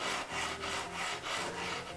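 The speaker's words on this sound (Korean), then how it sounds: "사포질은 사포를 이렇게 바닥에 두시고 나무를 움직이셔도 되고요." Wood being sanded by hand with coarse 180-grit sandpaper, a steady back-and-forth scratchy rubbing in about six even strokes, close and moderately quiet with no voices.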